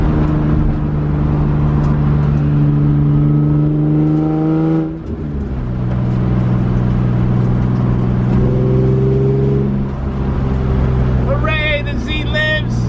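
A Z car's engine revs and pulls steadily through the gears while everything is shaking, its loud droning note climbing, dropping at each shift near five and nine seconds, then climbing again.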